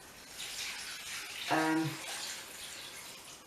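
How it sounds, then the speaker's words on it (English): Water is tipped into a distilling kit filled with eucalyptus leaves. It makes a faint, close splash with a short burst of trickling pouring, and no one speaks. "first of all, I'm just going to bung a load of water in."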